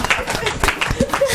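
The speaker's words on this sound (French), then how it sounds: "Applaudissez." An audience at a televised magazine show claps in quick, uneven bursts, close and fairly loud, over a short stretch.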